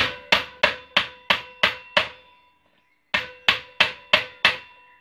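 A hammer strikes an impact screwdriver on a tight screw in sharp, metallic blows: a fast, even run of seven, a brief pause, then five more. The hits are loud and close, with a short ring after each.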